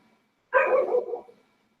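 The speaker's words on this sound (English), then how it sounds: "Hopefully you guys can't hear my dogs barking." Dogs let out one loud, close bark-like burst lasting under a second, alone in an otherwise quiet moment during a fishing live stream.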